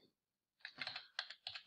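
Computer keyboard typing, a quick run of light key clicks in a short burst followed by two more brief clusters, fairly close and soft, with no talking.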